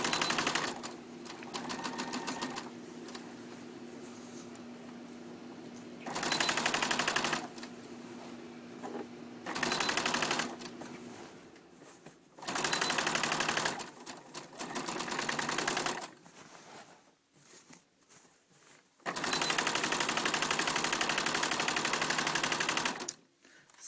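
A quilting sewing machine stitching a quilt backing loaded onto zipper leaders, with long loud runs of rapid mechanical chatter that start and stop repeatedly between quieter stretches, close by and alone without talk.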